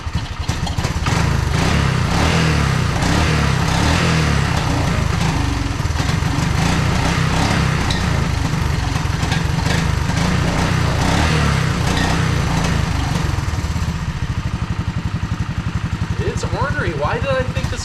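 A Honda ATC185S three-wheeler fitted with a Mikuni carburetor idles with a loud, close, steady putter throughout, while someone talks over the engine.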